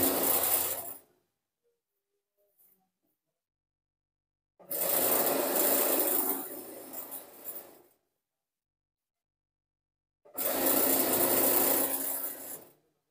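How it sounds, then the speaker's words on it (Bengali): A sewing machine stitches a half-inch seam in pajama fabric, running in three separate bursts, one trailing off at the start, a longer run mid-way and a final run, with near-silent pauses between. "এইভাবে 1/2 ইঞ্চি পরিমাণের সেলাই করে দিবেন"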